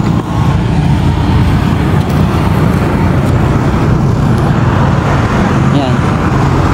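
Highway traffic rumbles close and loud without a break, a dense roar of cars and heavier vehicles passing, with faint voices mixed in.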